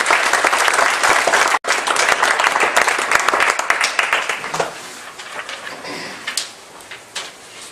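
An audience breaks into loud applause to welcome a speaker at a library talk, a dense wash of clapping that stays strong, then thins and tapers off over several seconds.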